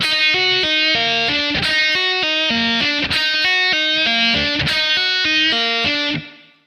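A distorted electric guitar plays a slowed-down hammer-on pull-off lick, evenly spaced legato notes cycling through a repeating pattern, loud and clear, trailing off at the end.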